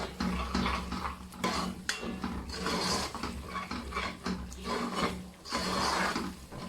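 Green leaf spices being stirred in a cooking pot for Cameroonian roasted fish, giving continuous scraping and rubbing strokes with scattered light clinks of utensil on metal, close and fairly steady, with no talking.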